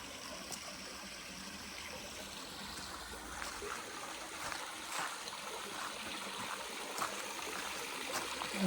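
Small waterfall in a valley, a soft steady wash of falling water heard from a short distance, with an echo chamber behind it and faint splashes over the constant flow.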